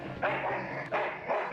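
Dog barking in the video game Full Throttle Remastered: three sharp, close barks spaced about half a second apart, loud and clear over faint background game ambience.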